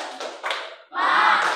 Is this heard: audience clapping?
yes